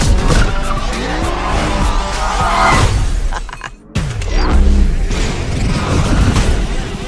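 Car skidding with the handbrake pulled in a Fast & Furious 9 film trailer, loud tire squeals and engine roar with crashing impacts, a brief silent cut, then more screeching and booming action.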